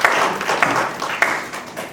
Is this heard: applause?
yes